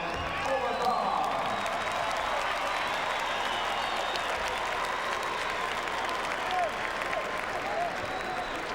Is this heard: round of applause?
yes